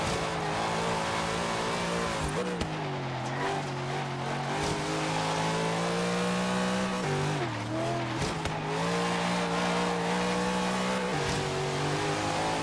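A 2016 Aston Martin Vulcan racing car in Forza Horizon 3 roars with a loud sustained engine note that rises and dips through gear changes, with tire squeal mixed in.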